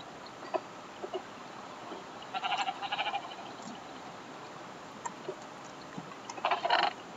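Sheep in a Minecraft-style survival game bleat in two short bursts, one near the middle and one at the end, over a quiet background with faint scattered ticks.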